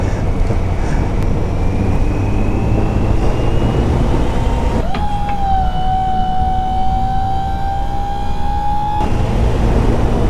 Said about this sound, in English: You're going to do a wheelie for the camera, Fasty.